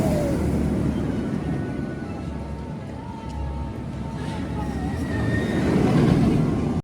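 Roller coaster ride on Abyssus at Energylandia, with a steady loud roar of wind and rushing track noise throughout, swelling toward the end, with faint voices underneath.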